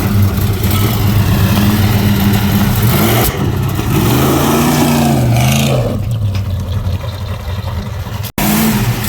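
A Plymouth Roadrunner engine, in a car said to backfire and stall whenever the gas is touched, revs loudly and unevenly with rising and falling pitch, then cuts out abruptly near the end before catching again.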